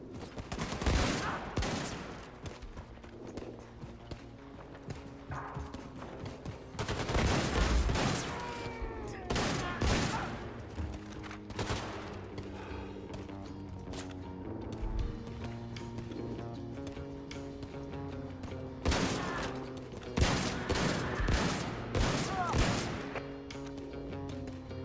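Enemy gunfire in the video game Wolfenstein II: The New Colossus, with repeated bursts of shots and volleys cutting through a steady bed of game music and ambience.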